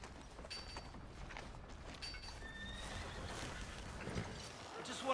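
A horse whinnies and its hooves clop along the ground in Red Dead Redemption II, fairly faint within a busy outdoor game soundscape.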